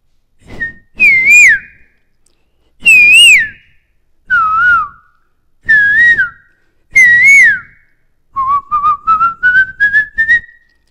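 A mimicry artist whistles a koel's call in a series of rising, looping phrases. After six separate calls, a quick run of repeated short notes climbs in pitch. The sound is close and clear, with no talking.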